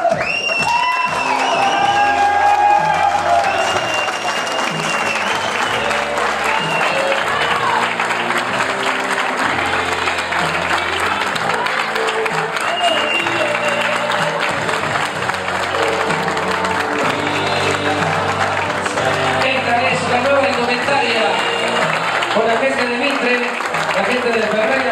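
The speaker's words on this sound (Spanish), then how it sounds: "fuerte un aplauso también para los muchachos" Sustained audience applause with cheering and whoops fills the whole stretch, steady and loud, as a sports club's players and staff show off new team jerseys for the first-division squad, with an announcer's voice over the crowd.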